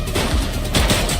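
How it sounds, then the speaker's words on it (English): Rapid gunfire bursts from a police shootout in The Precinct, a dense close volley of overlapping shots lasting about a second. "Shots fired!"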